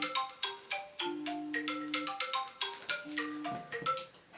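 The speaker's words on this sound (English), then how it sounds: "That is a phone call, not the alarm." A phone ringing with an incoming call, a melodic ringtone of bright tonal notes in a repeating pattern, clear and close throughout.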